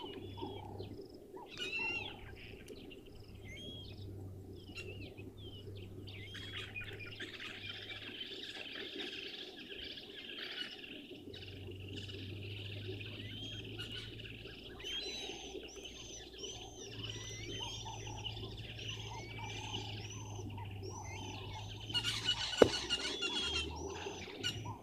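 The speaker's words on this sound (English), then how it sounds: "a lot of bird activity that we can hear right now. Right above us, the buffalo weavers." Buffalo weavers calling overhead in the African bush, with repeated squeaky chattering and squealing calls from several birds over a constant low hum, growing busier toward the end with a brief louder burst.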